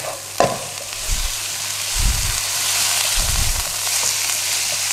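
Beef, ginger and garlic stir-frying fast in a hot pan for Thai pad khing: a continuous loud sizzle with a few low thumping tosses of the pan, no voices.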